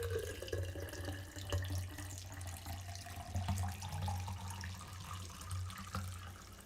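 Freshly made celery juice pours from a container in a steady, continuous liquid stream lasting several seconds, close and moderately loud, with a low hum underneath and no talking.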